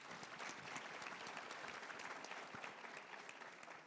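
A live audience at an onstage event claps in sustained applause, a dense, even rush of many hands, faint and distant, with no voices over it.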